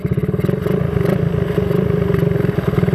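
A carbureted Suzuki Raider 180cc motorcycle with an APIDO ignition idles and revs up close, its single-cylinder engine pulsing in a steady loud rhythm with repeated throttle blips, with no talk.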